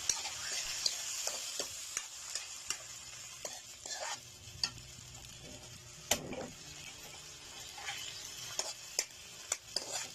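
A spatula stirs canned sardines with garlic, onion and ginger in a frying pan, making a soft, steady sizzle punctuated by sharp metallic taps and scrapes.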